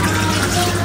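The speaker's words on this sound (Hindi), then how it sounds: "पानी भी ये देखिए मैं ठंडा पानी यूज़ कर रही हूँ" Cold tap water runs steadily from a faucet while meat is washed, a loud, close, continuous rushing splash with no pauses.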